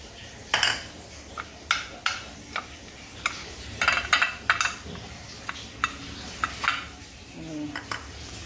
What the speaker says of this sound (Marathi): इडलीचे भांडे आहे त्याला असं तेल लावूया